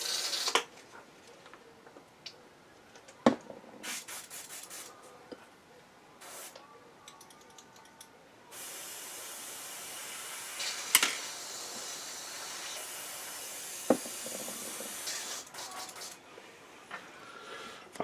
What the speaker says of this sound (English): I'm gonna clean the airbrush quickly.